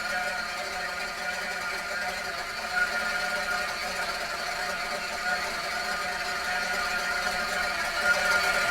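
Nitro RC engine in a Terra EVO off-road buggy held at steady high revs on a dyno, a continuous buzzing whine with slight wavering, no pauses.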